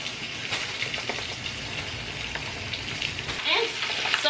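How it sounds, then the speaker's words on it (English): Steady crackling sizzle of chicken frying in hot oil, continuous and close, with a few louder pops toward the end. "See, that's a pretty good sizzle right there."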